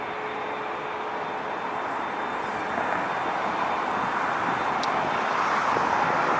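An Asiana Airbus A380 airliner taxiing slowly at LAX, a steady distant jet-engine rumble and hiss that holds level throughout, with no talk.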